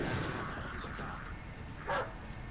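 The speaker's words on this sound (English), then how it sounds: "I do like that the dogs are Dobermans." Doberman guard dogs bark in the Deus Ex video game, a few short yelps and barks rising over a steady background din while people talk.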